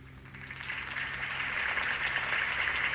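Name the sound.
crowd applause in a video game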